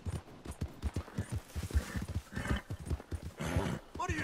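A horse's hooves clip-clop in Red Dead Redemption 2 as a quick, uneven string of close thudding steps, with a snort or whinny near the end and low game ambience underneath.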